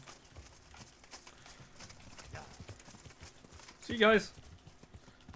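Horse hooves clip-clop in a steady, moderate walking rhythm in the medieval game Kingdom Come Deliverance, with a short, louder horse call near the end. Someone speaks briefly over it.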